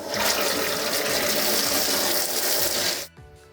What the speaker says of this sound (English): I'm gonna go ahead and turn on my T-adapter to allow water to flow.